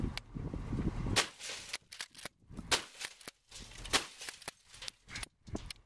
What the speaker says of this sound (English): I get to shoot some.